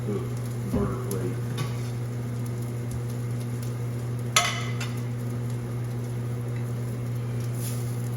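Slider burgers fry on a hot cooking surface with a soft, steady sizzle over a constant low hum, a few faint clinks and one sharp tap breaking in; no one speaks.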